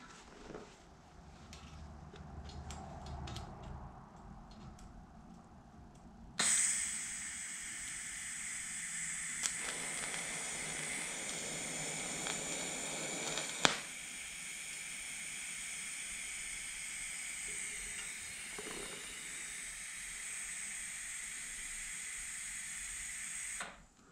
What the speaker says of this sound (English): that was a quick weld